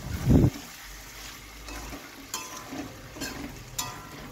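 Chicken coated in ground spices cooks in a pan, a steady low sizzle with occasional stirring scrapes and a thump at the start, close by and with no voices.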